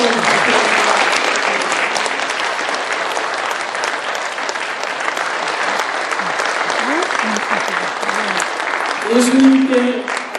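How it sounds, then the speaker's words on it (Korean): A church congregation claps in thanks to two pastors at a retirement service, steady loud applause running the whole time, with some voices and a brief murmur near the end. "제게 박수를 쳐줄 게 아니라 우리 두 분에게 감사의 뜻을"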